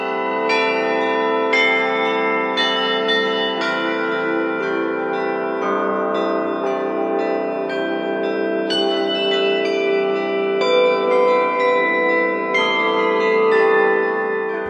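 Church bells in Mariana, Brazil, rung by hand in a deliberate pattern, with loud, close strikes of several pitched bells following one another in irregular rhythm and long ringing overlapping tones.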